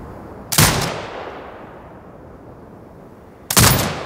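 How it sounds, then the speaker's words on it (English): Two heavy turret shots boom from Sniper Ghost Warrior Contracts 2, each a loud sharp blast trailing into a long rumbling decay, spaced about three seconds apart. "Exit binocular mode and command the turret to fire."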